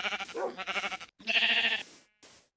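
Pink sheep in the Minecraft video game bleating, several close, loud wavering blasts in quick succession, with brief silent gaps between them.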